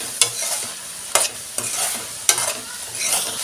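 A utensil scrapes and stirs through green chillies and capsicum frying in a pan about four times, over a steady soft sizzle of frying.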